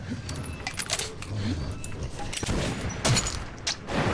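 A shotgun firing in the video game Metro 2033, heard as heavy broadband blasts amid dense, cluttered game noise with metallic clanks and rattles.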